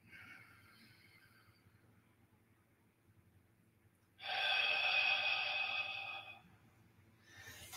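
Group breathing exercise during a shiatsu and energy work class: a soft breath is followed by a loud, forceful exhale lasting about two seconds, then quiet breathing again near the end.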